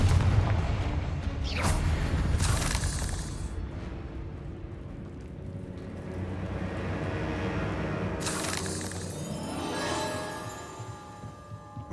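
Fiery blasts of the Confringo spell in Hogwarts Legacy burst out in heavy, booming waves, several loud explosions rolling over a rumbling low end with no talking.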